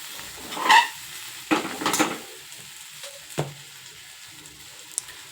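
Ground peanut and coconut paste is sautéed in a pan for a bitter gourd dish, with a few sharp spoon scrapes and clinks against the pan over a faint sizzle, close by.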